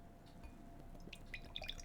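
A thick high-gravity stout beer pours from a can, giving soft glugging and faint, scattered drips and bright little plinks against a quiet background.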